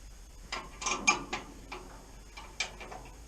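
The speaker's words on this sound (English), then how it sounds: "Going to undo these bolts, and then it probably won't come out, but we'll try." Bolts on the bulkhead of a 1969 Classic Mini being undone, heard as a string of fairly quiet metallic ratchet clicks and tool knocks in short irregular bursts, with no talking.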